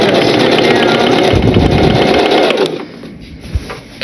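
A sewing machine runs steadily while stitching a T-shirt quilt, its loud continuous motor whir and needle clatter filling the first two and a half seconds before it stops, leaving a quieter hum with a faint click.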